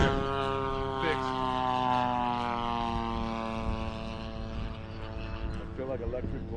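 A Seagull Models P-47 Razorback RC model airplane with a propeller engine drones steadily nearby, its whining harmonics shifting slightly as it flies, with people talking over it.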